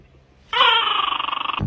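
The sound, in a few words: dog whimpering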